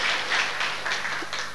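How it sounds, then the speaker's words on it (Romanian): An audience at an export program results ceremony applauds, a brief burst of dense clapping heard alone that holds steady and then trails slightly. "Vă rog să-i aplaudăm."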